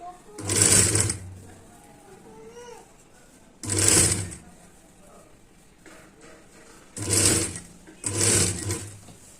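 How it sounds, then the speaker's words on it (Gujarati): A sewing machine stitches a katori blouse in short bursts, four distinct loud whirring runs separated by pauses, with faint soft speech in the gaps between them. "ફરતી બાજુ એ જ રીતે આપણે સિલાઈ કરી લેશું"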